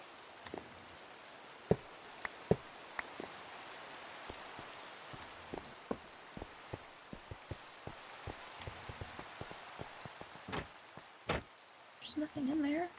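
Steady rain falls in Minecraft as a soft hiss with scattered sharp droplet ticks, fairly quiet throughout, and a voice briefly heard near the end.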